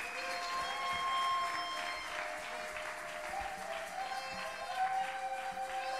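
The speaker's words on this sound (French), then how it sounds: "nous allons l'encourager par nos acclamations" A church congregation claps and cheers steadily in a packed hall, with sustained musical tones and voices ringing through the applause.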